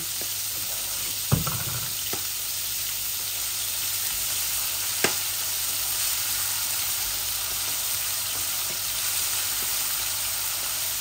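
Onions fry in a pan with a steady, close sizzling hiss, broken by a couple of sharp knocks from stirring; no one speaks.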